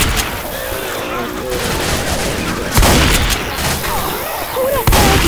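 Dense, rattling gunfire from Left 4 Dead 2 crackles continuously with sharper bursts near the middle and end, mixed with voices talking over the shooting.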